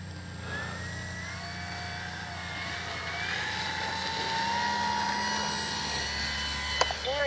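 A Dynam ME Bf-109 RC warbird model plane takes off, its electric motor giving a steady whine with rising and shifting tones that holds at moderate distance throughout, ending in a brief click.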